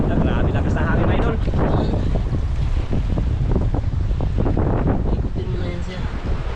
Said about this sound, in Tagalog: Grabe lakas ng hangin na idol.